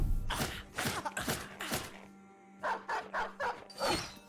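A dog in a video game barks in quick bursts, first a cluster of four yips and then another run of short barks after a brief pause, set over a faint steady hum.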